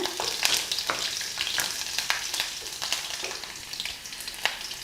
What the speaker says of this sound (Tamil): இதுக்கப்புறம் நம்ம எடுத்து வச்சுக்கக்கூடிய இஞ்சி பூண்டு ரெண்டுமே போட்டு லைட்டாக வதக்குங்க